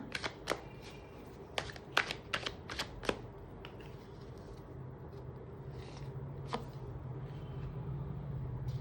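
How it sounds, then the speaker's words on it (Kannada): Tarot cards being shuffled and drawn, a run of sharp papery snaps and flicks clustered early, then a few soft isolated taps over a low steady hum. "ಈಗ ಇದಕ್ಕೆ ಇಲ್ಲಿಂದ ಒಂದು ಕಾರ್ಡ್ ನೋಡೋಣ."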